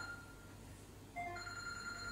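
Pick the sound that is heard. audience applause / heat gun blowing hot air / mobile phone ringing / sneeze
mobile phone ringing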